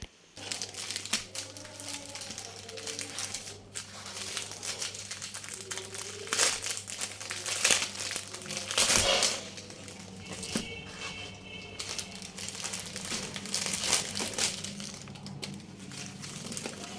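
A paper bag crinkles and rustles continuously in close, loud bursts of crumpling and crackling, with a brief tearing-like crunch partway through, before clay art is done on it.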